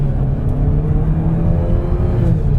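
A 2023 GAC Empow launches at full throttle on a track, its engine a steady loud drone with a low rumble that holds evenly throughout, with no talking.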